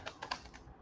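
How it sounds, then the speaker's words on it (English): Computer keyboard keys clatter in a few quick bursts of clicks, close and fairly quiet, with no talking. "How to reduce keyboard noise when streaming?"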